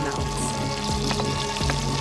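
Butter and spring onions sizzle and fry steadily in a pan, a continuous close crackle with a few soft stirring scrapes and no voices.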